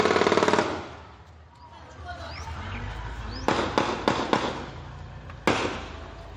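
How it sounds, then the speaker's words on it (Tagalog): Several sharp gunshot-like bangs crack in quick succession, loud and echoing, after a brief burst of rapid popping, with a low rumble underneath. "umalingaw-ngaw ang sunod-sunod na putok"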